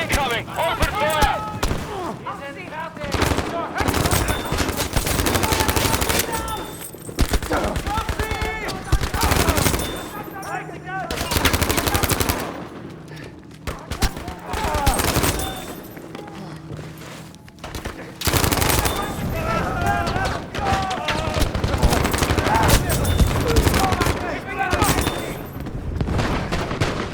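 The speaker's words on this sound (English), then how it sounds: "Enemy incoming! Open fire!" Machine gun fire in the WWII shooter Battlefield V, dense sustained automatic bursts and fusillades with booms throughout, loud and continuous, with in-game voices calling out over the shooting.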